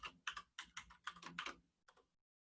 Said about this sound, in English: When you type, for example, you type hello